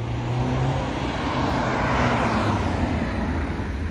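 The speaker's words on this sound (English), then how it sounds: "Seem to be a queue of vehicles here." A queue of cars and vehicles in street traffic on West Ealing Broadway in London, a steady broad rumble of engines and road noise with no distinct pass-bys, close and continuous.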